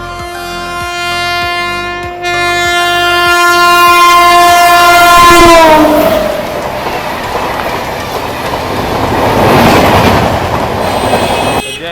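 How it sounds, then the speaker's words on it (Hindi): The Farakka Express arrives at Barabanki Junction with a long, loud sustained horn blast whose pitch slides down as it passes, followed by heavy rolling rumble and clatter of wagons, with no talking. "फाइनली दोस्तों अपनी ट्रेन आ चुकी है बाराबंकी जंक्शन"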